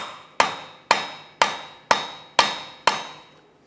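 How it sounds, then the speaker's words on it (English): A hammer drives a punch to separate the axle from the wheel bearing on a 2011-2020 Toyota Sienna rear hub, six sharp metallic strikes at an even, deliberate pace, each ringing briefly before the next, loud and close. "Do that using a hammer punch right in the center here."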